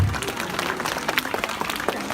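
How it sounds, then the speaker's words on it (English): An audience claps and cheers at a crocodile show, a dense, steady patter of many hands with faint voices mixed into the crowd noise throughout. "Yeah, give him a round of applause."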